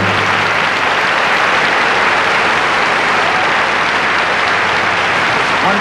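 Dense, loud audience applause fills the theatre at a 1978 Liberace show, a continuous wall of clapping that holds steady without a break throughout.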